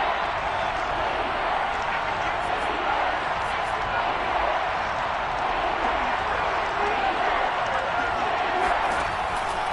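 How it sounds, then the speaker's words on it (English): A stadium crowd in an American football video game roars steadily from start to finish, a dense, even wash of cheering with no break. "The crowd getting into it as we come up on a big third down."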